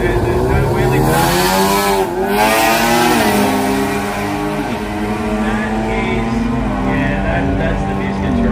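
A Suzuki Sierra drag racing car runs hard at a drag racing event, its engine loud and close, rising in pitch through several gear changes, with a voice talking over it.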